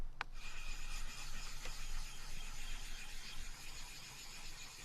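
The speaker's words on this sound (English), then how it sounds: "the way you use this is to create a slurry on top of the stone" A Nagura stone rubbed against a wet whetstone to build up slurry for knife sharpening at a camp, making a soft, steady, gritty scraping up close with one small click at the start.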